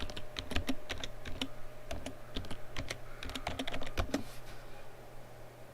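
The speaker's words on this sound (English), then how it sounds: "So we type in" Rapid typing on a computer keyboard while searching for Intel motherboards, bursts of quick close key clicks with short pauses over a steady low hum.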